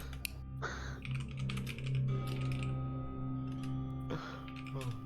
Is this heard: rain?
no